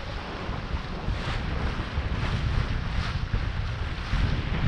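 Strong wind buffets the microphone continuously beside a flapping flag, a loud low roar with gusty surges throughout and no talking.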